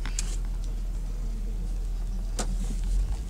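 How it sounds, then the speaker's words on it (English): An electric power window motor runs on a 2012 Chevrolet Impala police cruiser, a steady low mechanical hum lasting the whole stretch with a couple of faint clicks, recorded close inside the car. "Power windows,"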